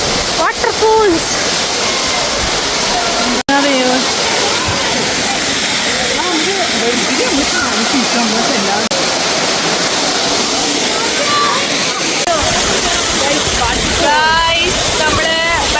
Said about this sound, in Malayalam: വാട്ടർഫോൾസ്.